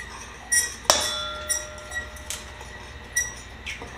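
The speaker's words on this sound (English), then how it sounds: "You make stirring complicated." A spoon stirs pumpkin pie filling in a bowl, making sharp, intermittent clinks against the bowl at uneven intervals over a quiet kitchen background.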